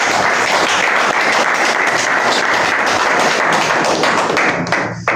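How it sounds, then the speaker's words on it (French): A crowd at a culture festival award ceremony in Haut-Lomami applauds the authorities, with loud, dense, sustained clapping that holds steady for about five seconds before dropping off abruptly at the end. "D'applaudir pour les autorités."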